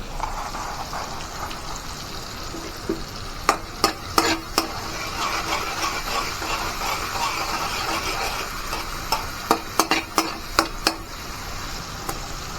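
Ingredients for a spicy chicken curry sizzling in a pan, a steady frying hiss broken by sharp clusters of a spoon scraping and knocking against the metal as it stirs, close and without speech.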